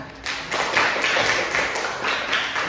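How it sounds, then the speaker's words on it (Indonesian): A classroom of students claps together, a steady dense patter of hand claps for a few seconds with no talking over it. "Oke, tepuk tangan."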